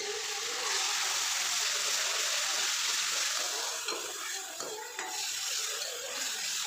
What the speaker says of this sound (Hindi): अब अच्छे तरीके से हमें इसको भी भूनना है।